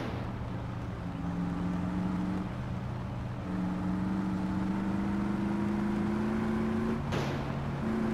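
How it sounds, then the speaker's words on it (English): A car engine in the video game My Summer Car starts and runs with a steady, droning hum that rises gradually in pitch as it revs, with a brief sharp pop near the end. "Now let me try to start this car. Hear this vehicle out."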